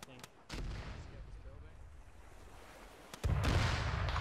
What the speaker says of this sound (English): Is taking cannon fire.